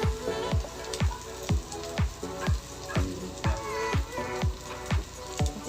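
Onion and garlic browning in a frying pan for home-cooked chicken liver menudo, a steady close sizzle broken by a regular series of sharp clicks or taps roughly every half second, with no talk.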